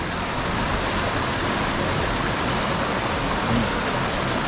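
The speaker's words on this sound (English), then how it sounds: "Now I'm just gonna enjoy this river." A river on the Timberline Trail rushes steadily and close by, a dense unbroken roar of flowing water with no voices over it.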